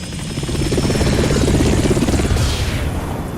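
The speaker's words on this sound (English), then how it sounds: "A Hind D. Colonel, what's a Russian gunship doing here?" Hind D Russian gunship helicopter in the Metal Gear Solid Twin Snakes video game, a loud, close, rhythmic rotor thump with engine whine, steady throughout.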